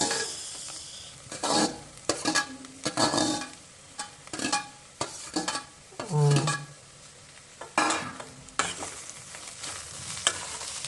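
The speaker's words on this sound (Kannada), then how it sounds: "ಈಗ ಈ ಉಳ್ಳಾಗಡ್ಡಿ ಬೆಳ್ಳುಳ್ಳಿ ಕರಿಬೇವು ಎಲ್ಲ ಹಾಕಿದ್ವಿ ಈಗ ಈಗ ಫ್ರೈ ಮಾಡ್ಕೊಂಡು" Onion, garlic and curry leaves frying in a pan for bhindi fry, with repeated bursts of spoon stirring and scraping over a steady close sizzle, and a few clinks of utensils.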